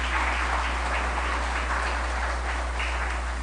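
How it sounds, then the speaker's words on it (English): Audience applauding in a banquet hall at a chamber of commerce event, a dense, steady wash of clapping heard throughout over a constant low hum. "Could we give him a round of applause, please?"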